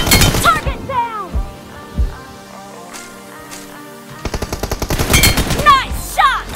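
Rapid gunfire bursts from a mobile shooter game played on an emulator, loud and close, with an opening volley, a couple of isolated heavy shots, then a sustained automatic burst near the end, mixed with voices and game announcer-style lines.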